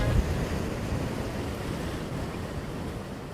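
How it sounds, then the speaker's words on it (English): Strong wind buffets a microphone in a steady, low roaring rumble that continues throughout, loud and close, with no voices. "It's so windy."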